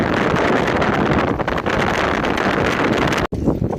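Strong wind in the Grand Canyon buffets the microphone in a constant roaring rush, with a brief dropout near the end before the gusts resume.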